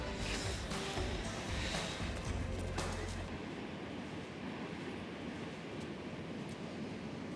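Ocean waves washing onto a beach with wind buffeting the microphone, a loud surging wash that settles into a steadier, softer hiss.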